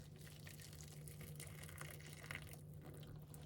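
Freshly boiled water pours steadily into a large bowl set out for soaking fabric in an avocado dye project, a continuous gushing splash with no talk.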